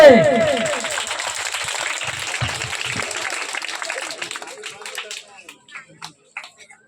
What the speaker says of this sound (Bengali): হাততালি আস্তে আস্তে কমে যাচ্ছে